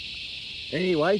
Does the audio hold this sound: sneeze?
no